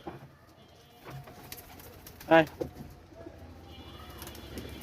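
Pigeons at a village garden house coo in short soft bursts, nearby and fairly quiet, while a person calls to them.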